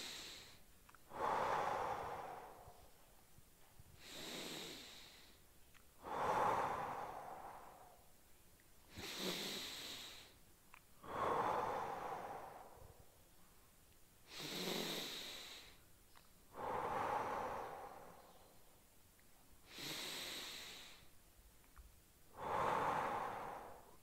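Slow, deep breaths taken during a stretching workout, about ten long inhales and exhales in a steady rhythm, close and fairly quiet, with no talking.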